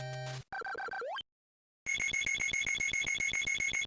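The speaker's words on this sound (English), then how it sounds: "Gotta love that NES noise right there." Retro NES Castlevania game effects ring out as bright, buzzy square-wave tones: a short stuttering sequence with a rising sweep, a brief silence, then a fast, repetitive pulsing chiptune pattern, loud and clean with no speech.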